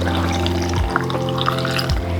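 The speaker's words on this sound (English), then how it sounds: "now we are going to pour this over our radish" Liquid brine being poured over cut radishes in a jar for fermenting, a steady continuous pour with a light watery splash throughout, close and fairly loud, no talking.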